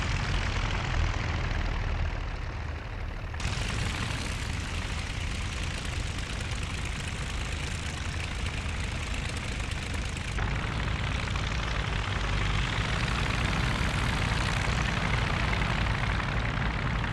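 Idling piston engines of World War I biplanes, Albatros and Fokker fighters, in the Rise of Flight flight simulator, a steady droning rumble that holds at an even level throughout with no talk.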